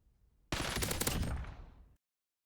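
A suppressed blueprint LC10 firing in Call of Duty, one sustained burst of rapid muffled shots lasting about a second and a half, close and alone, then silence.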